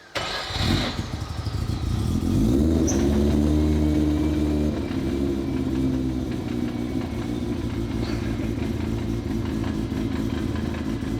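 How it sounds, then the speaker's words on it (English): A rotary-engined car fitted with Chevy exhaust tips revs loudly and close by, its pitch climbing and falling before it settles into a steady, rough idle, with clutch chatter in the mix. "That's the clutch chatter. Yeah, the clutch chatter."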